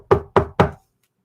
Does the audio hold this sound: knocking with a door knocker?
yes